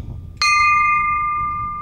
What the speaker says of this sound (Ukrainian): Для цього на меморіалі відкрили дзвін пам'яті